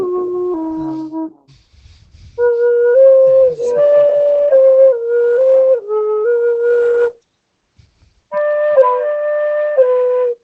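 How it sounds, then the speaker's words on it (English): A tin whistle played in short, shrill sustained notes, close and loud, in several phrases broken by brief pauses, with no talking over it. "I'm not that good at tin whistle"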